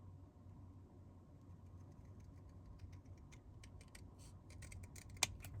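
Scissors snip through card paper in a rapid series of short, crisp cuts over a low background hum, growing busier toward the end with one sharper click, close and with no talk.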